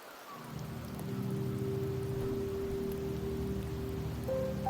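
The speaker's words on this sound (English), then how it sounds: "The rains in Septimont never seem eager to leave this season." Steady, soft patter of rain falling in Septimont in the Wuthering Waves video game, a continuous even hiss under a faint low ambient drone, no voices.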